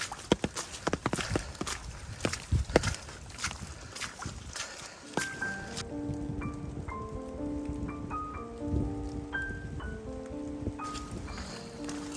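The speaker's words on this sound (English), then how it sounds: "The rain let up just a tiny bit. It's not dumping on us anymore." Light rain patters steadily on surfaces nearby on a hiking trail, with scattered drips and taps, no voices.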